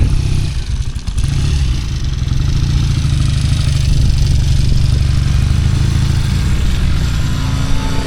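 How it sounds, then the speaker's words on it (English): Steady, loud low engine rumble of motorbikes idling and rolling in close by at an autumn vehicle fair, with a brief clatter near the start. "a couple more motorbikes have just turned up."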